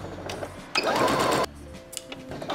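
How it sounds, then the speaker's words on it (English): A sewing machine stitches elastic into an oversized lace scrunchie, a short steady whirring run of close, loud stitching between quieter handling sounds. "I'm just gonna stitch the elastic in."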